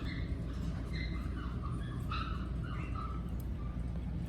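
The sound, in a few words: two-week-old Cavapoo puppies whimpering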